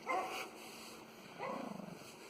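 A small dog gives two short yappy barks, a second apart, fairly close, against a faint steady background hum.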